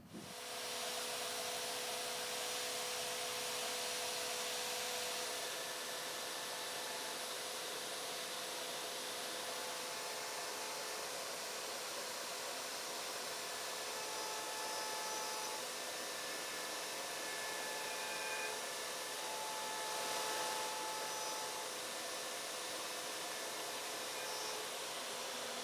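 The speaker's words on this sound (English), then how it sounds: "So we're cutting the mortises on the end of that backrest." A Shaper Origin handheld CNC router cuts mortises into the end of a wooden chair backrest. It gives a steady, loud, high-pitched whine that runs continuously, with slight shifts in tone as the bit moves through the wood.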